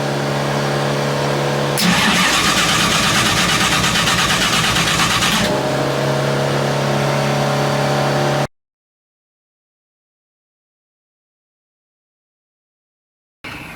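A flooded hot rod engine cranks loudly and steadily without catching, swelling into a harsher, fuller roar for a few seconds before dropping back, then cutting to silence, with a short burst returning at the very end.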